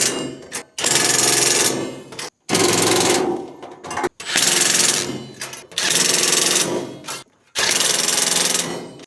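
A power drill drives screws into a wooden roll-away chicken nesting box, loud and close, in several sustained whirring bursts separated by brief pauses.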